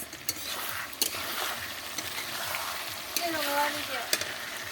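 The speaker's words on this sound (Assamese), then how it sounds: "এইফালে ধুনীয়াকৈ মাংস ইয়াতে দি দিলোঁ জলকীয়া পেষ্ট দি দিলোঁ এয়া ধুনীয়াকৈ এতিয়া লৰাই দিওঁ" Meat frying with chili paste in a pan, stirred steadily: a constant close sizzle broken by clinks and scrapes of the utensil against the pan.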